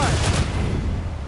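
Ship cannons fire in a naval battle in Assassin's Creed Rogue, a loud continuous barrage of booming blasts that rumbles and decays over the moment.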